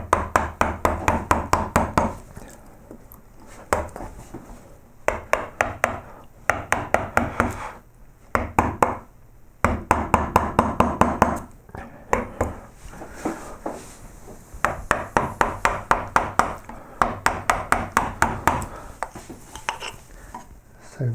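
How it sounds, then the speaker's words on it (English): A flattish wood gouge struck with a mallet while carving a sunken relief flower, giving rapid bursts of sharp knocks and chips in repeated clusters, close and loud with brief pauses between runs. "So I'm just going to take a flattish gouge"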